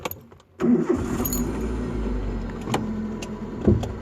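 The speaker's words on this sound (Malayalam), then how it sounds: "നമുക്ക് വണ്ടി സ്റ്റാർട്ട് ചെയ്ത് മുന്നോട്ടെടുക്കാം" A car's engine cranks and catches, then settles into a steady running hum as the car is put in first gear to move off; the sound is close and clear, with a short click or thump near the end.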